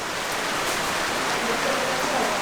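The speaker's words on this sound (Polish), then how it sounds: "a tu deszczyk jak pada, tak pada cały czas." Steady rain hisses evenly and continuously, a dense wash of falling drops with no pauses.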